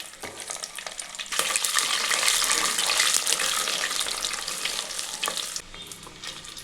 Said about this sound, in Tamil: எண்ணெய் காஞ்சதும் 1/4 டீஸ்பூன் வெந்தயம், 1/4 டீஸ்பூன் ஜீரகம், 1/4 டீஸ்பூன் கடுகு சேர்த்துக்கலாங்க